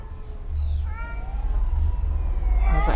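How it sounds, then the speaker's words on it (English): A cat meows repeatedly in a scene from the TV series The Fall of the House of Usher, its drawn-out, wavering cries rising to a loud, strained call at the end over a low rumbling background. "That's a cat."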